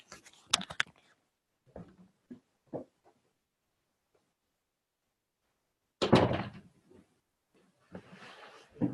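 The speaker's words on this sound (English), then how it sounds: "I need to close my doors now." Doors being shut indoors, several separate thuds and clicks spread across the stretch with silence between them, including a louder cluster of knocks near the end.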